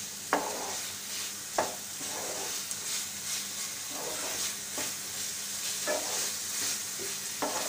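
Fried paneer pieces stirred into a hot masala in a pan, giving a steady close sizzle with repeated sharp scrapes of the spoon against the pan.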